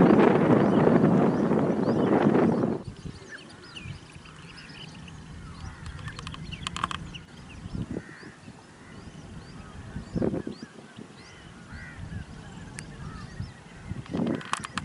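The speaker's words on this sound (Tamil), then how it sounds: "மண்கொத்தி உள்ளான் உள்ளிட்ட வெளிநாட்டு பறவைகள் ஏராளமாக வந்துள்ளன" Migratory shorebirds such as sandpipers gather at a Kanyakumari wetland, opening with a loud dense burst of calls before scattered, fainter honking calls sound against light wind.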